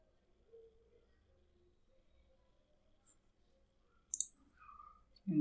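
A computer mouse clicks while filling in a web form: a few sparse, fairly quiet clicks spread through an otherwise near-silent stretch, with a brief louder burst of handling noise near the end.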